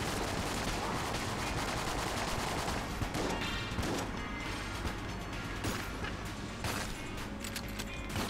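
A Hexa shotgun fires in Enter the Gungeon, a dense, continuous barrage of rapid blasts and crashes layered with game sounds, steady and loud throughout.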